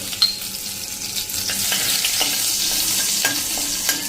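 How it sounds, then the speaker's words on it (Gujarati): Small pieces of chopped garlic sizzle and crackle in hot oil in a pan, a bright continuous frying hiss up close with occasional stirring clicks. "તો આ કળી લસણની પણ આપણે સમારી લીધી છે ને તેલ ગરમ થઈ ગયું છે એમાં નાખી દઈએ"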